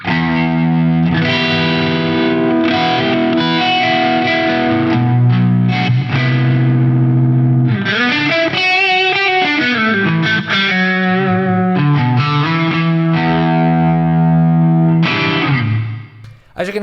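Electric guitar through an engaged Tech 21 Hot Rod Plexi pedal with all knobs at noon gives crunchy, slightly harsh distorted chords and sliding notes, loud and close, ending with a brief drop-off.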